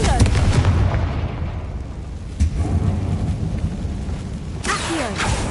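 Confringo fire spell blasts in the Hogwarts Legacy video game, a loud, continuous rumbling roar of explosive booms with sharper cracks and whooshes near the end, a voice speaking briefly over it.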